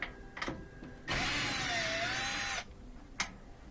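An electric tool whirs in a short burst of about a second and a half with a wavering pitch while bolts come off a Whirlpool laundry center washer. Quiet clicks and clanks of handling come before and after it.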